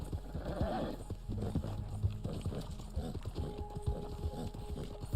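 Horse hooves clip-clopping in the video game Red Dead Online, a steady run of soft hoof beats near the listener with a brief faint whinny, over a low in-game background hum.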